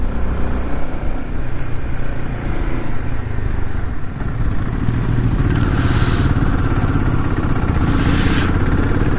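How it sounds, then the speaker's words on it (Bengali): A 390 motorcycle riding a North Sikkim mountain road toward Yumthang Valley, with a loud, close, steady engine drone, continuous rumble and road noise, and a few brief rattles and scrapes. No voices. "অর্ক কিন্তু 390 ভালো রাইড করে।"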